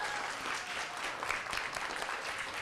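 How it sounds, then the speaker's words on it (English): Audience applause at a science cafe talk about tigers, a steady dense patter of many hands clapping at moderate level for the whole stretch with no voices over it. "let's give Jenny one more round of applause."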